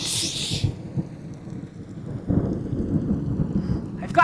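Stage thunderstorm effect in a teen play production of Frankenstein: a rolling rumble of thunder over steady rain, with a louder wash of rain and a crackling burst near the start and another swell partway through.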